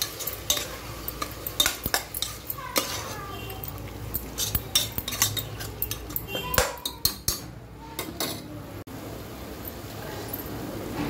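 Ground masala paste for prawn biryani fries in a pan while a spoon stirs it, with repeated sharp scrapes and clinks over a continuous sizzle.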